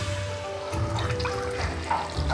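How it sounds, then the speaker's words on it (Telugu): Water poured from a container into a cooking pot of thickened curry on the stove, a steady trickling splash that runs through the whole moment at close range, with no talking. "ఇది చిక్కగా అయింది కాబట్టి కొన్ని నీళ్ళు దీంట్లో మళ్ళీ దులిపి పోస్తాను"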